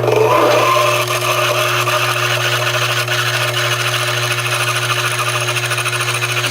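Metal lathe at slightly reduced speed drilling a hole in metal with a large drill, a loud steady motor hum with a constant whine and scraping cutting noise, a brief rougher burst at the start.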